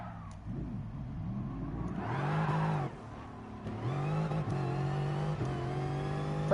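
Bugatti Veyron engine in GT Sport tuned for aggressive acceleration, revving hard through gear changes at high speed in a quarter-mile drag run, with a loud sustained engine note that shifts pitch several times.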